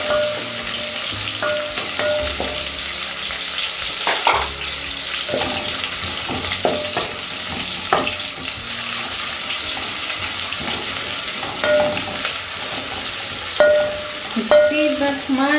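Onions frying in a pan give a steady, loud sizzle under stirring and clattering in a home kitchen. Brief running water from a tap comes through now and then, and no one speaks.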